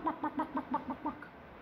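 A voice imitates a chicken clucking in about seven quick, evenly spaced bawk-like pulses, close and soft, ending with a slightly higher final note.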